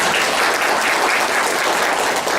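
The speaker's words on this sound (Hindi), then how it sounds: "एक बार जोरदार ताली हो जाए" A loud, dense round of applause from a meeting audience, steady clapping filling the room throughout without a break.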